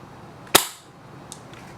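An Echo1 ASR airsoft sniper rifle fires a single sharp, close shot that decays quickly, followed by a faint tick a moment later.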